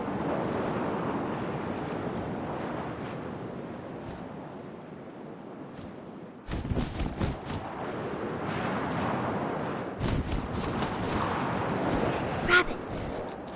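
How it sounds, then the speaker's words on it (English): Wind blows steadily in What Remains of Edith Finch, a broad rushing whoosh with gusty swells, joined later by sharper rustling bursts. "First, all I heard was the wind."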